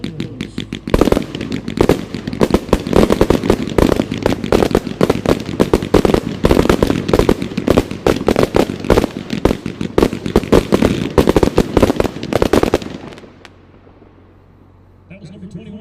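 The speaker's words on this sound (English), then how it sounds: "Here's number 21, 81 shot Z-shaped blue tail to Nishiki Willow with color pearls." An 81-shot Z-shaped blue tail to Nishiki Willow fireworks cake with color pearls fires in a rapid, dense string of loud cracking launches and pops for about twelve seconds, then stops, leaving faint crackle and distant noise.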